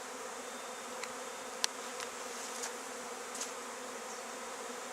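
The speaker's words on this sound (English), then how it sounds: "This is a swarm that has started." A honey bee swarm just starting from a congested hive at a church site in the morning, heard as a steady, soft insect hum with a few faint clicks, no voices.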